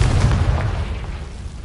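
A Confringo fire spell cast in Hogwarts Legacy bursts with a loud low boom that rumbles on for over a second, with no talk.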